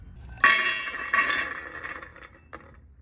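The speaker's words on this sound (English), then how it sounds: "Place a steaming rack inside." A metal steaming rack set down inside a pot, with two sharp clinks of metal on metal ringing briefly, then a softer third tap, close and otherwise quiet.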